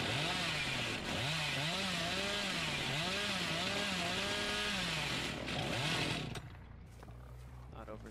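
A killer's chainsaw revving in the video game Dead by Daylight, rising and falling in a run of rapid bursts before cutting off, with a quieter game ambience after.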